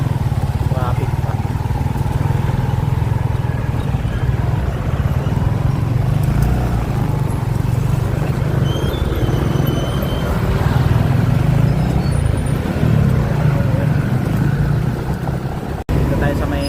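Road traffic during a motorcycle ride through Bustos, Bulacan: a steady, loud engine drone with passing vehicles and wind, and someone talks intermittently over it.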